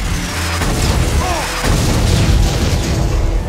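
A turret is destroyed in Terminator Dawn of Fate, heavy booming blasts and rumbling explosions layered over constant game combat noise, loud and dense across the whole stretch.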